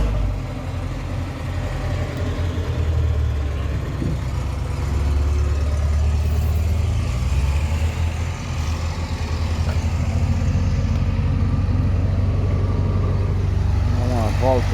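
A Scania P 360 6x2 truck's engine idles steadily with a deep low rumble, close by and continuous, while someone talks over it.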